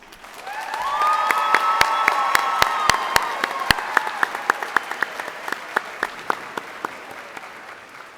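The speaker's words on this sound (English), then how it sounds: "Can I please get another round of applause for the members of our graduating class?" A crowd at the 2022 Green Bay East High School graduation applauding the graduating class, a broad, sustained roar of clapping with cheers, punctuated by sharp nearby claps and slowly tapering toward the end.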